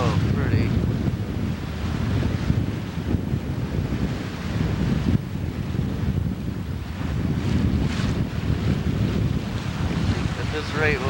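Strong wind buffets the microphone while waves wash against a sailboat crossing Lake Huron, a continuous loud roar of gusts and surf with no pauses.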